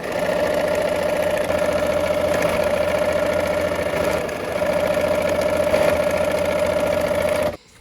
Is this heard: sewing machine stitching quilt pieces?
yes